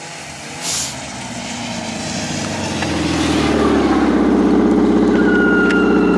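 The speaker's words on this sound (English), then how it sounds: "I apologize for the belt squeal." A 280-horsepower Yamaha RX1 snowmobile engine runs loud and close, its steady roar rising and swelling after a brief bump, with a high, thin belt squeal threading through the later part of the sound.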